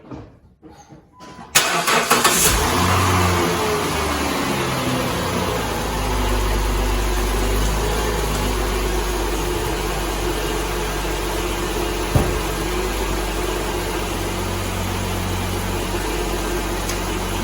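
A Dodge Grand Caravan engine cranks briefly and catches, then settles into a loud, steady idle with a low rumble for the rest of the clip, close by, with no talking.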